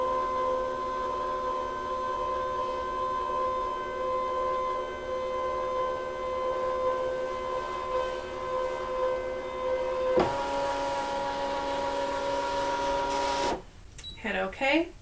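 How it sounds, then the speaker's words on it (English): A Brother ScanNCut CM350 electronic cutting machine running a direct cut gives off a steady, close mechanical whine with layered tones, shifting pitch partway through, then stops, followed by brief handling noise. "I'm going to be direct cutting. To the machine. Start."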